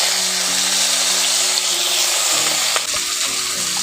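Chopped tomatoes fry in hot oil with onion and tempering spices for a small-fish curry, giving a loud, steady, close sizzle with a faint low hum underneath.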